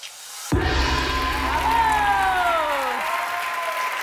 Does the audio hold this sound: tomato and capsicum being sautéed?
no